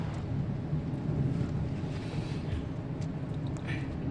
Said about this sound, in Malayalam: നല്ല ഇടിയും കാറ്റും മഴയും വരുന്നുണ്ട്.